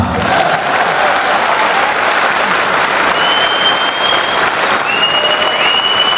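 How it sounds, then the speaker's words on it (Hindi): Loud, dense applause from a crowd at an educational speech, steady and sustained for several seconds with no break. "तालियां बजा सकते हैं आप?"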